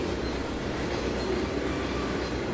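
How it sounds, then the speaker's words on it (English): Trains rolling past in the railway simulation game Trainz 2022, a loud continuous rumble of wheels and wagons with faint squeal, steady and close throughout, no one talking. "I'm hoping it's not too many trains going by."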